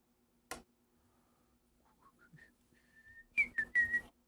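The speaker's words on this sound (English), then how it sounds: "I gotta not whistle that loud" A sharp snap, then a short, loud whistled tune of rising and falling notes, close by and alone.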